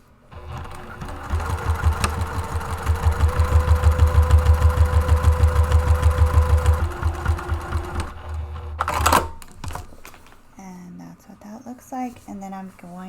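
A sewing machine stitches a seam across the base of an autumn tote bag, running in a loud, steady buzzing burst for several seconds before it stops. Brief handling noise and a voice follow.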